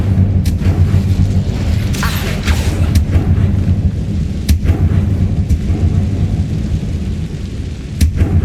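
Incendio fire spell blasts in Hogwarts Legacy make a loud, steady rumbling roar broken by several sharp booming cracks, close and continuous.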